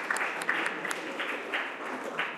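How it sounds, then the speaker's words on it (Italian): Students clap after a science lecture, a modest scattering of hands with audible individual claps in loose rhythm, fairly quiet and brief. "Facciamo un applauso."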